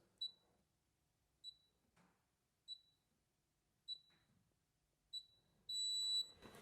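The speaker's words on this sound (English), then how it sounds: "green light, long beep, and then the light disappeared" Five short high beeps spaced about a second apart, each with a faint click as a fingerprint is pressed on a 2026+ Tesla Model Y biometric safe, then a longer steady confirmation tone at the end.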